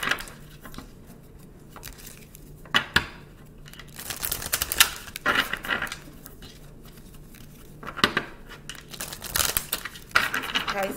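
Tarot cards being shuffled by hand: soft papery riffles and flutters in irregular bursts, with crisp snaps and light clicks between quieter stretches, close up with no talking.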